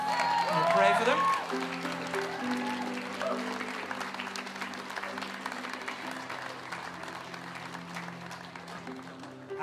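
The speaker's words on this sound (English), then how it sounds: "Give these guys a round of applause." A church congregation at a Sunday service applauds, with a burst of loud clapping and a voice at the start, then sustained applause over soft background music.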